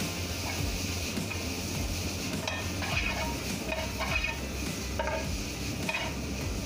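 Chicken chow mein is stir-fried in a pan: a continuous close sizzle with rhythmic tossing and scraping strokes coming every second or so, no voices over it.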